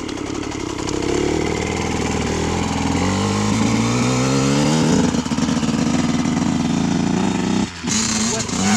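A Yamaha YZ dirt bike engine with a broken gearbox runs loud and close, droning and revving in uneven rising pitches while voices talk over it.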